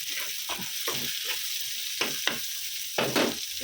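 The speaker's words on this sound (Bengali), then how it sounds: "পেঁয়াজটা লাল করে ভাজা হয়ে গেছে" Onion and garlic, fried until reddish-brown, sizzle loudly and steadily in a pan, with scraping stirs and a few louder crackles close by.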